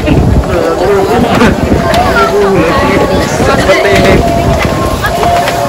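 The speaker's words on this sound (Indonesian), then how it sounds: "Wah, tinggi pol, anginnya banter lor" Strong wind buffeting loudly and steadily outdoors, a continuous roaring rush across the whole stretch, with a person speaking briefly over it.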